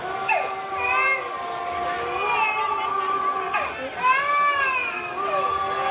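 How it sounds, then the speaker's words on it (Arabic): An infant wails in a dramatized narration of the Karbala tragedy, rising and falling in repeated sobbing cries over a murmuring crowd background, fairly close and steady throughout. "صراخ طفل"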